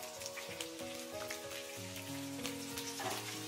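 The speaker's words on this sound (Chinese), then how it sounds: "开中小火给它慢煎。" Sea bass pieces slowly pan-frying in rapeseed oil over medium-low heat give a soft, even sizzle. It sits faintly beneath steady background music.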